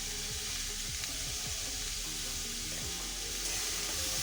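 Chopped onion fries in a pan with a steady, close sizzle and crackle, with occasional soft stirring scrapes and no voices throughout.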